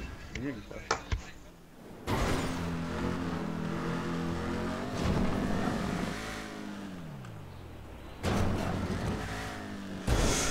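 Dominator ASP muscle car in GTA 5 on PC, engine revving and droning loudly with rising and falling pitch sweeps, abrupt cuts and bursts of harsh noise from crashes or landings, continuous and close.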